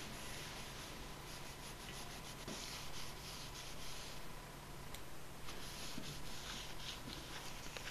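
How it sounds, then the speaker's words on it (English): Steady, close scrubbing and rubbing as old gasket material and adhesive are cleaned off a manway cover, a continuous gritty abrasive texture with a few small clicks and no talk. "Continue cleaning until all of the gasket parts and adhesive have been removed."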